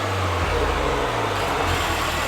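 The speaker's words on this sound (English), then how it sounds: "The engine's louder than the exhaust." Idling engine of a Honda Civic Type R FK8 with an AWE exhaust, heard up close as a steady low drone that shifts pitch slightly partway through, with no voices.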